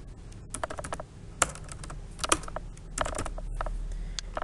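Rapid typing on a computer keyboard during a Notepad lesson, with irregular bursts of crisp, close key clicks and a few louder keystrokes, alone without talk.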